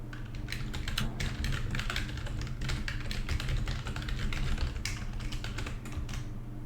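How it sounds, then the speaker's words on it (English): Rapid, irregular keystrokes on a computer keyboard, a steady stream of close clicks and taps over a low background hum during an online tabletop game session. "I can hear you typing."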